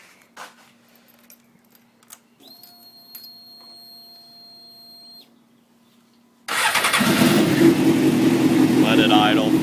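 A 2003 Suzuki GSX-R motorcycle with misfires, first electronic beeps and a whine, then the engine catching and running at a loud, rough idle close by.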